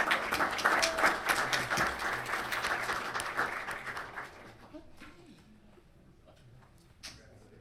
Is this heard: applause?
yes